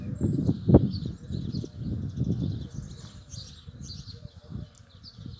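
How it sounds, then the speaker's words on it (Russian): Outdoor birdsong with goldfinches, pigeons and starlings: scattered high chirps and twitters in the distance over low thumps and rustling nearby, moderately faint and irregular. "Слышно, какое пение птиц кругом, щеглы, голуби, скворцы, чего только нет."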